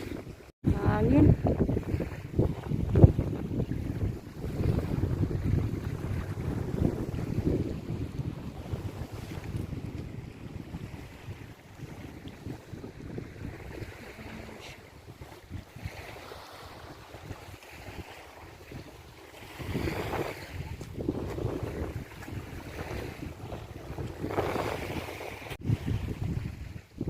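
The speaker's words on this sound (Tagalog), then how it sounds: "Hangin." Steady wind buffets a small fishing boat at sea, a continuous low rushing roar with gusts and wave wash that swells and eases over half a minute, with occasional voices mixed in.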